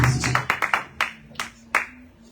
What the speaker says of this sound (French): Acclame encore le Seigneur.